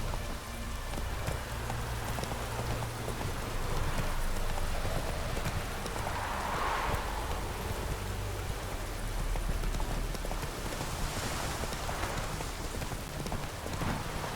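Roach, the horse in The Witcher 3 video game, clip-clops along steadily with a continuous rhythmic hoof patter over a rain-like wash, moderately loud and without talk.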